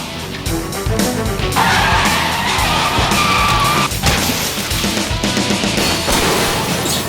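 A bus skidding in a demolition-style bus race in the video game Test Drive: Eve of Destruction, loud and close, with sustained tire squeal over engine roar and a few crunching impacts throughout.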